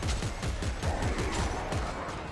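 Rapid, continuous automatic gunfire in dense bursts from the video game Dead Space 3, loud and sustained over a noisy background.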